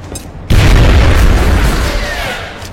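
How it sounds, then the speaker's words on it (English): An AP grenade detonates in a video game, a single loud, deep boom that hits suddenly after a quiet moment and rumbles away over the next two seconds. "So we're gonna throw an AP grenade over here."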